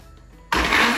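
A kitchen blender with a little water in it switches on abruptly after a quiet moment, jumping straight into a loud, dense, steady whirring roar.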